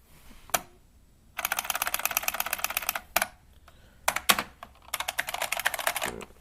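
Bursts of rapid typing on a Unicomp EnduraPro buckling spring keyboard, clicking keys in several fast runs separated by short pauses, close and clear with no voices.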